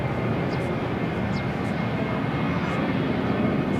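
An Airbus A380 airliner in orange turbo livery flying between Narita and Honolulu, seen at Haneda, gives a steady, broad engine roar that holds evenly throughout at moderate distance.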